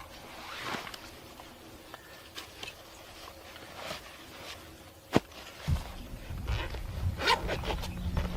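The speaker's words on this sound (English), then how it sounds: "Number 10 zipper to open this." Nearby rustling and zipping of backpack fabric, with a few short pulls on a number 10 zipper and handling noises, followed by heavier rubbing and shuffling toward the end.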